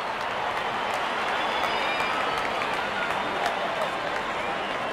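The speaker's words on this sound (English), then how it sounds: "Wonderful 50, and the crowd applauds." A cricket stadium crowd at a Zimbabwe versus Netherlands match applauds a batsman's fifty with dense, sustained clapping and cheering that holds at an even level from start to finish, with no voices on top.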